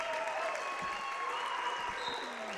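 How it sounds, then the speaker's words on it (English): A gym crowd at a 2018 Martinsville girls basketball game against Mooresville applauds players with steady, sustained clapping, mid-level and continuous, with shoe squeaks ringing through. "the Artesian starters and players will get a nice ovation from this crowd"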